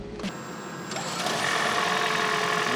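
A Toyota Prius fitted out as a camper starts after a Noco Boost Plus jump-start, with an abrupt onset followed by a steady, close, whirring engine hum that holds to the end.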